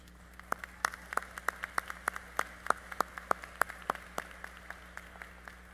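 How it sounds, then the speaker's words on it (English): A commencement audience gives a round of applause for a choir and band, heard as sparse, distinct hand claps spaced fairly evenly over a quiet hall, faint and distant rather than a full roar. "May we have another round of applause for the Oak Singers and the Salem Band,"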